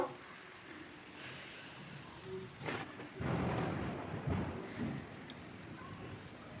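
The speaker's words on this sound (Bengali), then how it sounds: "দেখতে পাচ্ছ বৃষ্টির কি ভাব প্রচণ্ড বৃষ্টি হচ্ছে" Heavy rain pours down steadily outdoors during a thunderstorm, with a deep rumble of thunder building midway and swelling loud for several seconds over the constant hiss of falling water; no one speaks.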